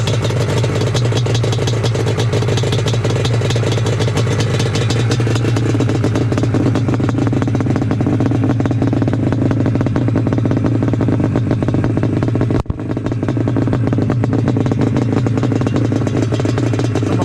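A stock-stroke, dune-ported Yamaha Banshee ATV two-stroke engine on pump gas, with T5 pipes, stock carburetors and can ends, runs in a loud, close, steady buzzing drone at the Glamis dunes, with one brief dropout.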